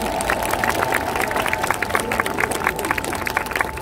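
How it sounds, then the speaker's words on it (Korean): Crowd at Jogyesa's Lotus Lantern Festival gives a percussion troupe, Yadanbeopseok, a sustained round of dense clapping mixed with low crowd murmur, steady and close throughout. "연등놀이의 문을 화려하게 열어주신 타악그룹 야단법석 여러분들께 다시 한번 큰 박수 보내주시기 바랍니다"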